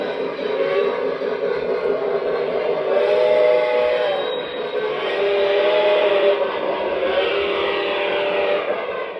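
A small O gauge model train engine runs steadily, giving a continuous mechanical rumble and whir with gentle swells in loudness, close and fairly loud, with no talk.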